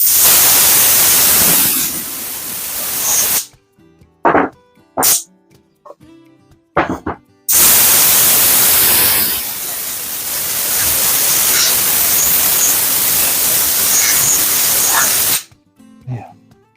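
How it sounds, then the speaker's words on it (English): An air hose blasts compressed air over a surface in loud bursts of hiss, one long spray, several short puffs, then another sustained blast, with clattering in the gaps. "let's get an air hose and blow it off"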